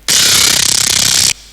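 A single loud, harsh burst of distorted synth bass with a buzzy, rapidly pulsing growl, lasting just over a second and then cutting off.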